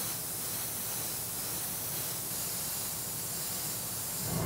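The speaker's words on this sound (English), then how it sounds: "I've got one of my colors loaded up in my airbrush here, and all that's left to do is paint them all." An airbrush sprays paint onto 3D-printed sword parts, giving a steady, close, even hiss that runs unbroken throughout.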